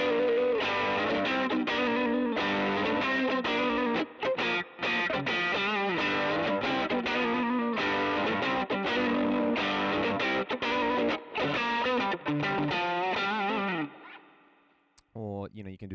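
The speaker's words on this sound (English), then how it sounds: "So I really like the double verb vibrato model as well with these settings." Electric guitar played through a Fractal AX8 modeling a Fender-style Double Verb vibrato amp, set up with Fender Magic Six-type settings: sustained chords and riffs, loud and continuous with a wet, effected tone, fading into silence near the end.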